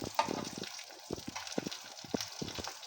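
Half a kilo of chicken sizzles in a pan with browning onions, soft crackles and bursts of frying close by, with someone speaking intermittently over it.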